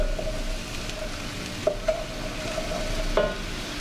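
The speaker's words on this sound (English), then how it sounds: "All right, it's boiling." Wine and caper sauce bubbling in a pan on the stove, a steady soft simmering hiss with a few small pops and clicks throughout, close and continuous.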